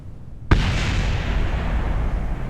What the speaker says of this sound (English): What was the explosion?